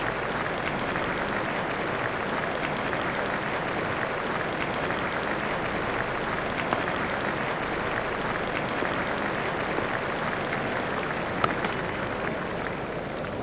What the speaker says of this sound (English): He's getting a standing ovation from this excellent crowd.